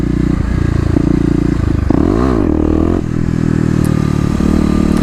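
A Kawasaki KLX250 dirt bike idles loud and close, then the engine revs up and drops as the clutch is popped for wheelie warm-ups, a continuous throaty drone throughout.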